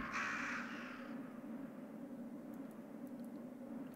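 Crows caw harshly in a burst during the first second of a Resident Evil game scene, then fade, leaving a steady low ambient drone with faint distant clicks.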